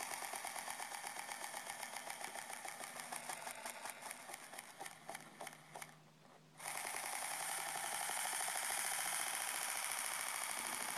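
A small homemade brushed electric motor, powered from a 2.7 volt supercapacitor, whirs with a rapid buzzing rattle that stutters and drops out briefly, then returns steadier and louder, heard up close with no talking.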